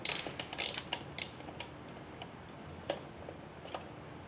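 A wrench ratcheting on a bolt and lock nut while a flush tank motor is replaced, giving quick, close clicking bursts with scattered metallic ticks, no speech.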